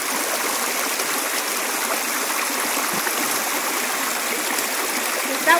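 Water rushes steadily in a swollen river in Guatemala, a constant broadband roar close by with a faint splash near the end.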